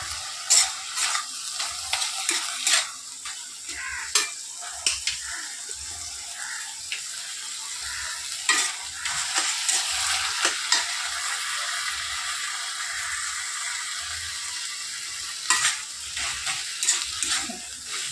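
Banana flower and prawn curry stirred in a pan, soft background sizzle with frequent sharp scrapes and clicks of a spoon against metal, intermittent and close.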